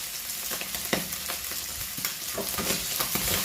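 Canned clams stir-fried with roasted chili paste in a pan, a steady close sizzle broken by repeated scraping and clacking strokes of a spatula, with no talking.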